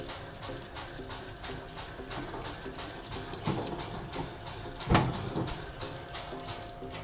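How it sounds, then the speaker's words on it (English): A Unic Edition35 spray gun cleaner washes a spray gun inside and out, a steady rush of spraying, splashing water with a pump hum, rising briefly in two louder surges near the end. "will wash the spray gun through the inside and all over the outside"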